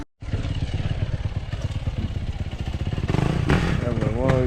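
Yamaha YZ450 dirt bikes on the trails in Ocala, Florida, their engines droning steadily up close with a rougher, louder rev near the end, while people talk over the noise.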